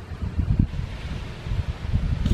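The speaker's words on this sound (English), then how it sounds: "It is so windy." Strong wind blows outdoors in gusty, rumbling buffets against the microphone, low and uneven throughout with no talk.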